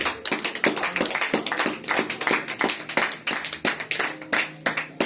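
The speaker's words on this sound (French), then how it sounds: "Acclamez d'abord pour la gloire du Seigneur." Church congregation clapping for the Lord: sharp, fairly rhythmic handclaps, some in unison, under an evangelist's sermon, close and steady for several seconds without talk.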